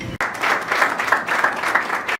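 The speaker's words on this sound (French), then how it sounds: "Chers entraîneurs, ayez cette amabilité de vous lever pour que vous soyez aussi applaudis." Short burst of applause for coaches at a sports academy's general assembly, dense crowd clapping starting abruptly, swelling in a few waves, then cutting off after about two seconds.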